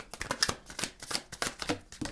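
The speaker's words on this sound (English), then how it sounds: "I'm going to go ahead and get into all of the oracle cards and the tarot cards now. I'm going to shuffle them all at once." Oracle and tarot cards being shuffled together in hand, a quick run of crisp papery riffles and slaps in an uneven rhythm, close and fairly quiet, with no talking.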